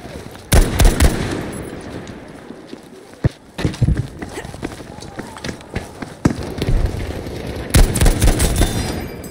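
Gunfire in the video game Battlefield V, with sharp, loud bursts of shots and rapid volleys scattered among running footsteps and chaotic battle noise.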